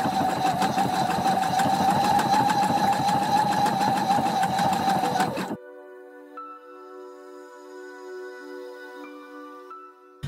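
A sewing machine fitted with a beading foot stitches a rhinestone strand onto a denim bag made from old jeans, a loud steady whirring run for about five seconds, then cutting off to quiet background music.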